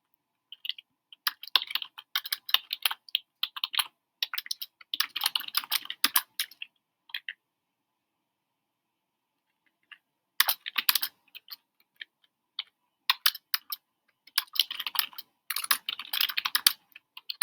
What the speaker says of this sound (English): I'm going to type it then read it because I have a hard time typing and talking at the same time.